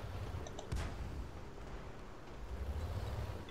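A tank cannon fires in World of Tanks, a single deep boom followed by a low rumbling tail under faint background noise.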